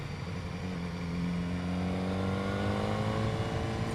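A 2015 BMW S1000R engine pulls under throttle with a quick shifter, a steady droning roar whose pitch climbs smoothly and evenly through the run.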